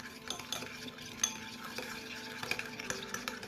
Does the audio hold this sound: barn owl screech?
no